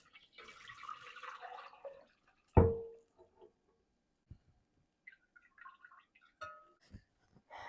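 Liquid pork fat drains from cooked carnitas in a kitchen, giving sparse, faint drips and trickles with one sharper clink partway through, then scattered small splashes and taps.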